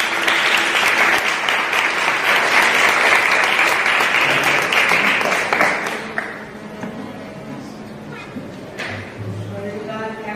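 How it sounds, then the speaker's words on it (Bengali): Loud, sustained applause from wedding guests fills the first six seconds, then fades as a voice begins speaking in a quieter room. "শুভেচ্ছা স্বরূপ আমরা জোরে করতালি দিয়ে তাদেরকে"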